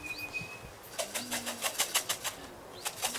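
Racing pigeon arriving at its home loft, a burst of rapid wing flaps at close range over quiet outdoor ambience with a faint bird call.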